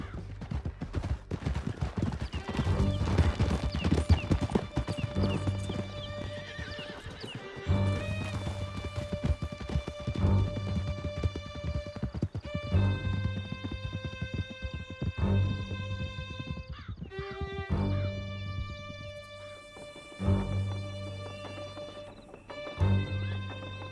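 Horses galloping in the game Red Dead Redemption 2, rhythmic hoofbeats running steadily under game music, with occasional gunshots and brief voices.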